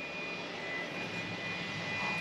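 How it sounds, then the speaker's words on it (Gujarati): A gas stove burner running in a home kitchen gives a steady, even rushing roar, close and constant, with no talking over it. "તો આ ગેસ જે છે એ ચાલુ થઈ ગયો છે"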